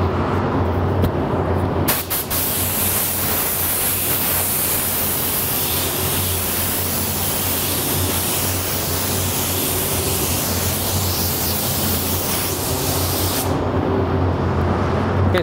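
A spray gun lays down a coat of candy paint with pearl flake. A loud, continuous airy hiss runs for most of the clip, starting abruptly and cutting off near the end.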